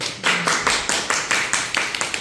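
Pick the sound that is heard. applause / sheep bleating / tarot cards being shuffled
applause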